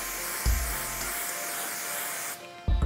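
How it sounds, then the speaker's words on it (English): Hairspray sprays onto hair while a Chanel-inspired hairstyle is styled: a steady, close hiss lasts about two seconds, set off by soft thumps at its start and after it stops. "I just want to use a little bit of hairspray."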